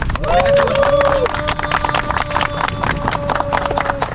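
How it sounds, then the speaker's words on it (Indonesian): Members of a Honda CB150X motorcycle club gathering in Depok applaud together, a brisk rapid clatter of many hands, with a voice speaking over it. "Buat tepuk tangan."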